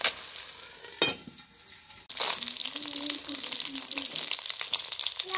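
Masala fish sizzling and frying in a pan on a low flame, with a brief knock near the start and a louder steady sizzle after a sharp clatter, as if the lid is moved.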